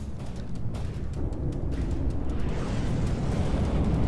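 Cram cannon shots exploding in the naval combat game From the Depths, a dense rumbling barrage of booms and blasts piling into a continuous roar that swells toward the end.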